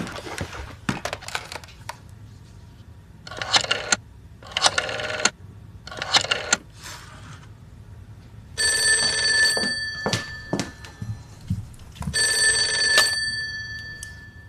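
An office telephone rings in a spy-drama scene, with several separate bursts of bell-like ringing followed by longer, brighter electronic ring tones, fairly close and with no voices.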